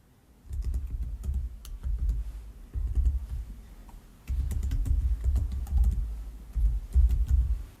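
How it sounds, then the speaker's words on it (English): Typing a web address on a computer keyboard, with close, soft key taps arriving in several quick bursts separated by short pauses, alone without talking. "if I type in a web address"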